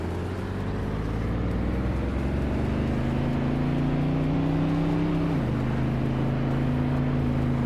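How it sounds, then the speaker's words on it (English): A 1973 Lancia Stratos engine in a racing video game drones loudly and steadily, rising gradually in pitch, then dropping briefly at a gear change before droning on with no voices. "Egenerite is driving a 1973 Lancia Stratos and is currently in 10th place"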